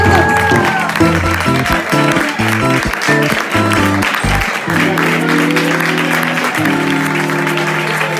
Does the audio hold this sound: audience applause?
yes